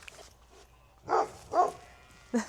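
Dogs out on a walk near a field give a few short, faint barks and yips spaced apart, fairly distant against a quiet background.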